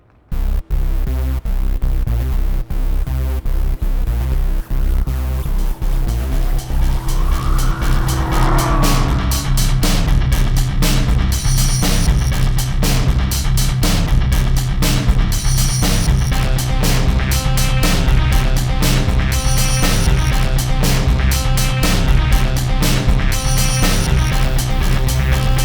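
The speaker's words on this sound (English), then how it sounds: "to test one of the fastest cars in the world, the McLaren" A 2013 McLaren MP4-12C sports car roars continuously at close range on a racetrack, engine revving up and down through gear changes for a sustained stretch, with no talking.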